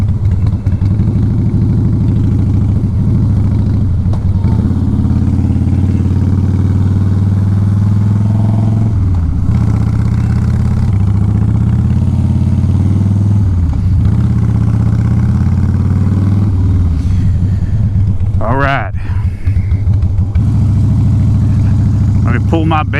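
A Harley-Davidson Softail Fatboy motorcycle engine idles loudly and steadily nearby with a deep, even rumble, with a brief sharper mechanical sound late on.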